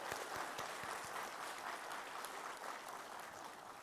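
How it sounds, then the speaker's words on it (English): Applause at a management programme graduation ceremony, a steady wash of many hands clapping in a hall, moderately faint and sustained throughout. "So a big round of applause."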